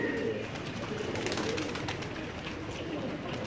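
Pigeons let out in the rain coo and flutter around a rooftop, a steady outdoor bed of soft cooing and scattered calls over continuous rain hiss, with no talk.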